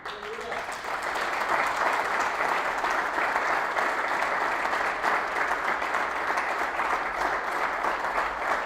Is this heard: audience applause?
yes